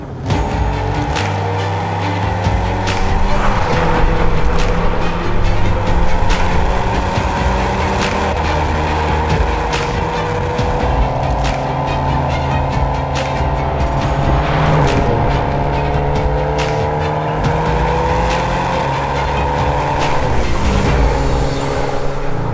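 A VW Golf 8 R driven hard in race mode, its engine loud and close, revving up through the gears again and again, with the pitch climbing and dropping at each shift and no one talking.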